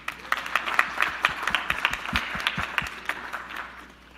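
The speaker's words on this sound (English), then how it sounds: "Give her a round of applause" Applause from a small audience welcoming a sorority representative on stage, distinct individual claps forming a short, moderately loud round that fades out.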